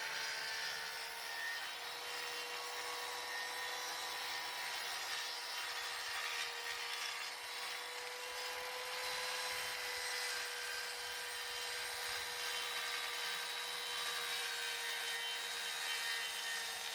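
A circular saw cuts wood for a Dalek base along a clamped scrap-wood guide, a continuous high whine with a steady tone held evenly for the whole stretch.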